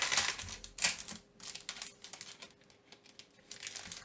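Vellum specialty paper packaging being opened for a Heidi Swapp Honey and Spice craft haul, giving close, crisp crinkling and crackling bursts in quick irregular rustles, with brief quiet gaps between handling.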